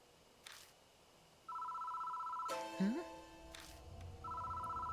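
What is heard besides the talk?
telephone ringing in the video game Deathmark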